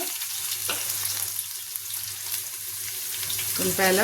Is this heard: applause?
no